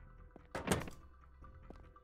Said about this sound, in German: Ich habe die Tür hier durch zugemacht.